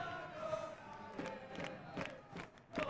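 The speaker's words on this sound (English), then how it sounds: "the crowd are going mental" Video game crowd from Football Manager 2021 during a Champions League group match, a steady stadium roar with bursts of cheering swelling and fading over a few seconds, moderately loud with no talk.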